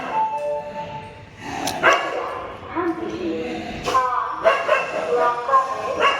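Several short dog barks and yips come in bursts over a busy railway station background with people talking nearby.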